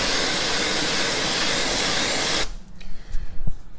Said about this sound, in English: So we can take some freeze spray.